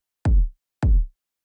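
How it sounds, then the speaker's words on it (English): Two tight, punchy kick drum sample hits, one layer of a two-layer drum kick, each a short deep thump with a quick decay, spaced about half a second apart and heard alone. "kind of like the tighter, more punchy kick,"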